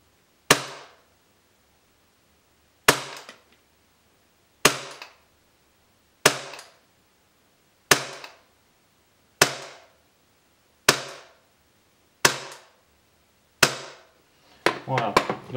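Tokyo Marui Glock 19 Gen 3 gas blowback airsoft pistol firing about ten single shots, each a sharp close snap with slide clack, spaced a second or two apart, ending in a quicker burst.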